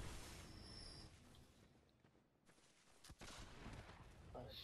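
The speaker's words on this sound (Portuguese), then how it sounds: "Tá metendo tiro em mim aqui," Gunfire in the video game Bloodborne: a few sharp shots and short bursts crack out amid dim in-game ambience and footsteps, all fairly quiet.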